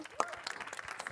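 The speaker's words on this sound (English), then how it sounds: "Please give her a round of applause." An audience applauds briefly at a leadership event, a short patter of scattered claps at low level with some crowd murmur mixed in.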